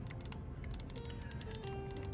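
Mechanical button clicks on a Razer Wolverine V2 game controller, a quick scatter of small crisp clicks close up over faint background hiss.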